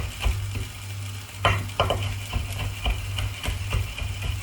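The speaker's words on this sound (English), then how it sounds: "I'm going to just do this and roughly chop it very roughly" Garlic and chili being roughly chopped with a knife on a board, a run of uneven, close knocks over a low steady hum.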